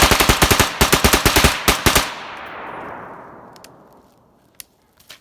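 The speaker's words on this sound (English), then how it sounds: "We got the BOF rifle going finally." A base-of-fire rifle fires a rapid burst of about a dozen loud close shots over two seconds. A long rolling echo follows, then a couple of faint clinks.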